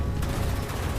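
Gunfire in the online shooter game Fallout 76, a dense loud burst of rapid shots and booms filling the whole moment, heard alone without talk.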